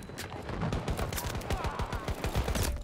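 Automatic gunfire from a gun in the video game Battlefield 2042, a rapid rattling string of shots with a few short pauses, loud and close throughout.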